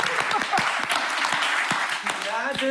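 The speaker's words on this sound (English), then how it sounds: "So give SVB a round of applause." An audience at a conference talk applauds, a steady burst of clapping that carries through the whole moment, with a voice speaking over it.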